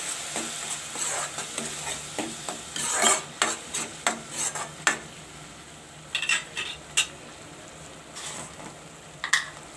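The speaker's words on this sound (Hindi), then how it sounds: "अब हम इसमें डालेंगे अपना जो हमने पिसा हुआ टमाटर किया था इसे भी अच्छे से मिक्स कर लेंगे" Ground tomato being stirred into fried onions in a pan for chickpea curry, a steady sizzle under repeated metal-spoon scrapes and clinks against the pan, irregular and close, with no talk.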